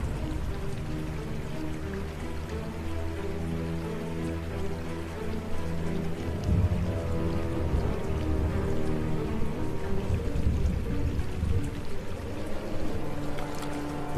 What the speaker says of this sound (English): The rain poured down for days,